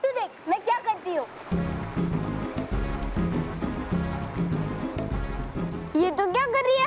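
A waterfall roars as a loud, steady rush of falling water from about 1.5 to 6 seconds, with speech and exclamations at the start and end.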